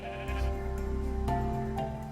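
Sheep bleating in Minecraft with the Better than Wolves mod: a single wavering, nasal bleat rising from steady ambient game tones, moderately loud, with a second fainter call near the end and no talk.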